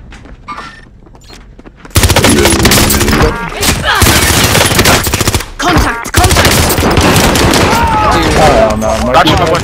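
Gunfire crackles in the video game Call of Duty: Modern Warfare: loud, dense bursts of automatic shots, near and sustained with brief gaps, while players shout and talk over it.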